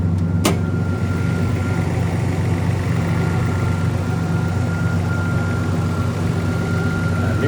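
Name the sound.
1986 Toyota Supra engine idling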